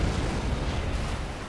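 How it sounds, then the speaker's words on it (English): An explosion in the video game Prototype, heard as a dense, loud, rumbling blast that fills the whole clip with a sustained boom and no speech. "That was an explosion."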